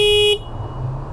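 A motorbike horn gives one short, loud, bright toot that cuts off abruptly, leaving low engine idle and faint background noise.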